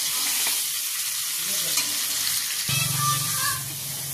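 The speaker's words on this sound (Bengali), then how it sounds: "এখানে লবণ হলুদ দিয়ে এই আলুগুলোকে একটু লাল লাল করে ভেজে নেবো" Potatoes seasoned with salt and turmeric fry in oil with a dense, steady sizzle, a low hum joining partway through while the crackle carries on.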